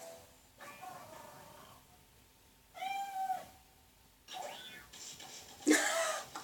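Cat meows from the video game Okami HD, a few separate mewing calls spread across the stretch with quiet gaps between them, moderately loud against a soft game background.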